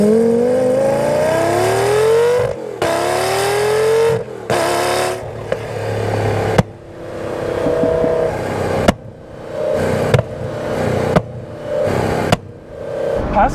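Loud supercar engine revving up and down close by, with sharp exhaust pops and crackles between revs and shifts.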